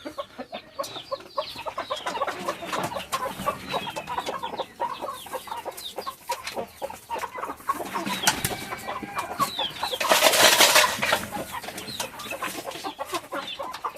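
Medak breed chickens at a poultry farm cluck and call repeatedly in overlapping bursts, fairly close, with a brief louder rustling flurry toward the end.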